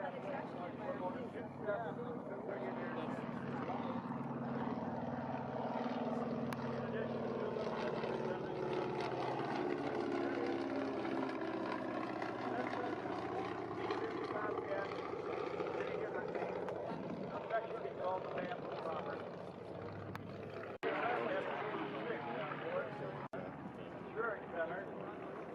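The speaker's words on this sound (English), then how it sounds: "Hold your breath as the Bamboo Bomber commands the sky, a living testament to the power of innovation and the spirit of flight." Bamboo Bomber aircraft flying at Oshkosh AirVenture, a sustained propeller engine drone that swells and fades as it passes, under steady narration.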